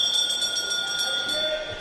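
A bell rings for the points laps of a track cycling race at an international indoor arena event, a sustained metallic ringing that carries steadily over the hum of the venue for the whole moment.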